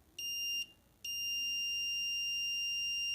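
A small electronic buzzer wired to a limit switch in a robotics circuit sounds a steady high-pitched tone, briefly cut off then resuming continuously, clear and close in a quiet room.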